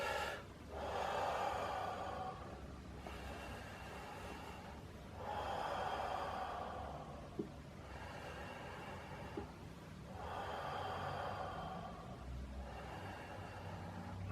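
Slow, deep breathing during a qigong exercise, several long drawn inhales and exhales of several seconds each at a steady rhythm, close and moderately soft over a low background rumble.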